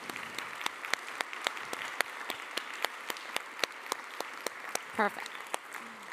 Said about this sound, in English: is to give our panelists a massive round of applause